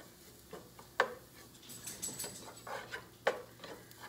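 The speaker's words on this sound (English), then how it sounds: "You wanna stir it around" Sausage and bacon stirred in a cooking pot, with scattered utensil scrapes and clinks against the pot plus a couple of sharper knocks over soft sizzling, fairly quiet and without speech.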